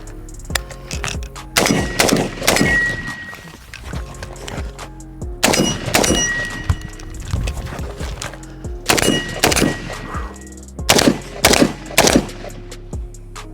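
Gunshots from a Stenzel SAK-21 AK-style rifle with a 12.5 inch barrel, fired at a 25 yard range: sharp, loud reports in quick bursts and clusters separated by short pauses, each shot ringing out with metallic echo.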